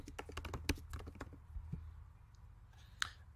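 Quick, light clicks from a computer keyboard as a search word is typed, a close burst of keystrokes followed by a few isolated taps and a final sharper click, with no voices.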